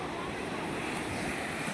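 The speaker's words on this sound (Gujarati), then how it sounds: "દરિયો ભરાવો થયો છે ને ભાઈ વેલના મોજા ફૂલે ફૂલ આવે છે" Sea waves surge at high tide along the shore during a Dashama idol immersion, a continuous loud roar of breaking water mixed with buffeting wind on the microphone.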